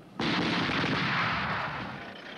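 An artillery battery firing rounds at a PT-76 tank, a single sudden loud blast that rolls on as a long rumbling boom and slowly fades, alone with no talk.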